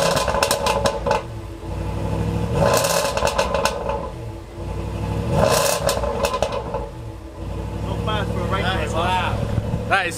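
A Lamborghini engine revs repeatedly with a deep, loud exhaust roar, rising and falling in waves, with speech heard between revs.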